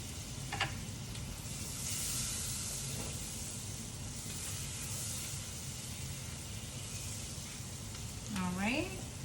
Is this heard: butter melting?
yes